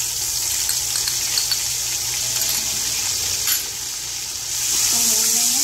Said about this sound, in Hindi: इसको भून लेंगे 2 से 3 मिनट